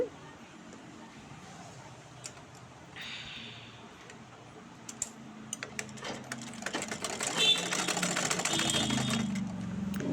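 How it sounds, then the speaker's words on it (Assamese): A sewing machine stitches a border strip onto a chador, its rapid mechanical rattling building up in the second half after quieter handling noises, with a voice speaking nearby. "দি এতিয়া মই চিলাই দিম।"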